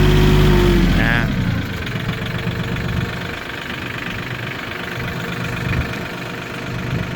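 A tractor stuck in mud runs its engine, a close, steady rumbling idle with a brief higher rev at the start, then a continuous low churning drone throughout.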